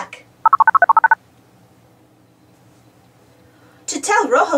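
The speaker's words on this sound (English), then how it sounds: "Which truck can Boots call on his truck phone?" A cartoon phone is dialed with a rapid run of about nine clean touch-tone beeps, then a pause before a voice starts talking near the end.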